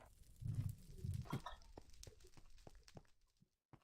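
Chickens cluck in a video game while playing on a farm, with a few low, bubbly clucks near the start and then sparse clicks and faint game noises, no one speaking.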